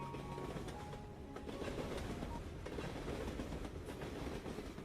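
Train wheels clack over rail joints in a steady rhythmic clickety-clack beneath a low continuous rumble inside a moving carriage, quiet and even throughout with no talking.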